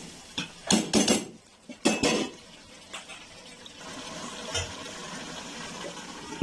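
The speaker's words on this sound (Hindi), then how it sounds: "तो अब यहाँ पे हम 1 कप जो है वो पानी डालेंगे" Water goes into a cooking pot of fried keema. A few sharp splashes and clatters come first, then a softer watery hiss and bubbling settles in, with occasional knocks.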